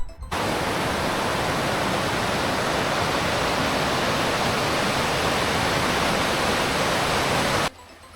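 Becker Creek, a Yukon stream near Becker Peak in Canada, rushes in a steady, loud, broadband roar of flowing water that cuts in suddenly, holds unchanged, then drops off near the end.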